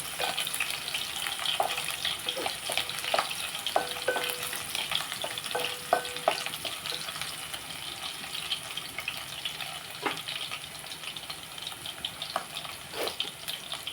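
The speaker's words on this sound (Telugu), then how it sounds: "ఫస్ట్ మనం వెల్లుల్లిపాయలు వేపుకున్నాం" Garlic and spices frying in hot oil with a steady crackling sizzle. Occasional pops and light clinks come through, close and continuous with no talking.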